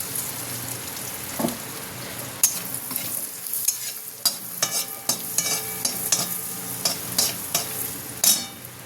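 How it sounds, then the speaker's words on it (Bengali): Crushed whole garam masala and dried red chillies fry in hot oil in a pan, a soft steady sizzle broken by sharp stirring scrapes and clinks at irregular intervals. "একটু শুকনো লঙ্কা দিয়ে দিলাম ফ্লেভারের জন্য"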